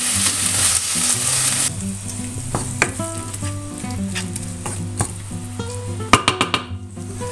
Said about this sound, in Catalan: I posarem la mantega i la posarem a fregir junt amb la mantega.